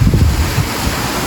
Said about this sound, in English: Oh, that wind's blowing up here.